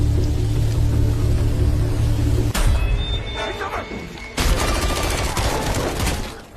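Gunfire erupts in a film battle scene as fighters shoot at enemies, loud bursts and rumbling impacts that shift abruptly as scenes cut.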